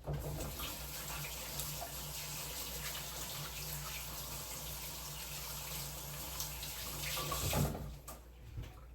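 Tap water runs steadily into a sink as hands are rinsed, a continuous close splashing flow that swells slightly before stopping near the end.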